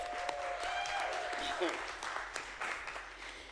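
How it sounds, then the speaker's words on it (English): Applause from an audience of teachers at an evening school board meeting, a brief burst of clapping that fades over a few seconds, with a voice speaking over it. "give yourselves another round of applause"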